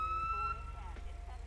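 A short wail of a police siren with a steady electronic tone, followed by quieter whooping sweeps over a low engine hum, in the game GTA V via a FiveM server.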